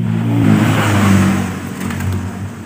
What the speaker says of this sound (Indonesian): motor ini sudah hidup lagi